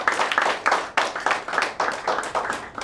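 Loud, close clapping from a small group in a recruitment training session, sharp rhythmic bursts of hands striking together in uneven waves with no talk over them.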